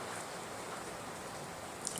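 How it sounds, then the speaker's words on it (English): Rain falls steadily outside, a soft even hiss that holds constant throughout, faint and with no other sounds over it. "Sorry if you can hear the rain."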